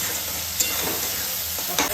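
Tomato, garlic and ginger paste are stirred in a frying pan for dhaba-style chicken, a continuous close sizzle with a couple of brief scraping strokes of a spoon.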